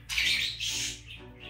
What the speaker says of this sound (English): Sorry, my bird's just talking.